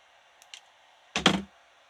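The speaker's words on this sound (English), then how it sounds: "So now I'm going to cut" A quick, crisp snip as cutters sever jewelry wire after crimping beads, a single short click with a faint tick just before it.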